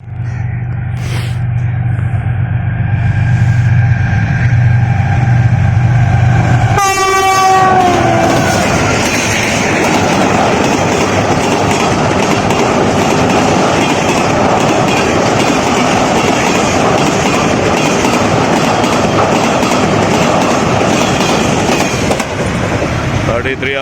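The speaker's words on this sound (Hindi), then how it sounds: "बिजनेस एक्सप्रेस जो कराक्रम एक्सप्रेस के पीछे चढ़ी जा रही है, 9030 लीड कर रहा है इसे" Pakistan Railways Business Express led by locomotive 9030 passing in fog: a loud horn blast, then the close, roaring rumble and rhythmic clatter of the train rolling by for many seconds.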